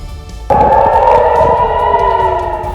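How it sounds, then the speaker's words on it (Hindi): An air raid alert siren sounding in Israel during an Iranian missile attack rises abruptly into a loud, sustained wailing tone that holds steady and slowly sags in pitch, with a faint echoing background. "पूरी रात हवाई हमले से अलर्ट करने वाले सायरन बज रहे हैं"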